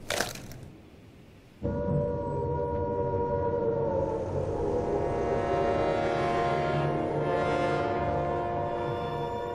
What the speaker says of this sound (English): the air raid sirens had sounded